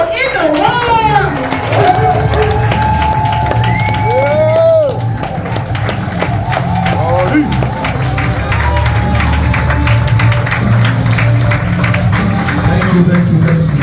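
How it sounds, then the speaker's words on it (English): At a regional business event in Miami, an audience applauds and rises for the company CEO: sustained loud clapping with cheers, shouts and children's voices mixed in throughout. "let's please give a round of applause again and stand up for our amazing #1 best CEO in the world"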